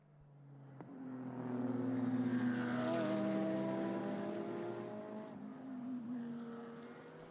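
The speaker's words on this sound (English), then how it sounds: "Nissan, Audi, Porsche, Ferrari, all running together." GT race cars of several makes, including Nissan, Audi, Porsche and Ferrari, run together at the Suzuka 10 Hours; engine notes sweep past, rising and falling as the pack goes by at moderate distance.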